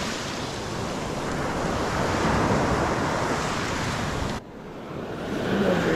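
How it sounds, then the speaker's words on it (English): Rough surf rolls onto a Gulf beach after a hurricane at Stumps Pass, a loud continuous wash of breaking waves mixed with strong wind buffeting the microphone, dipping briefly before surging again. "The waves are coming faster and it's getting harder to catch stuff before it gets blown up past"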